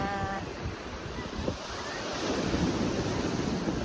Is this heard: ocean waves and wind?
yes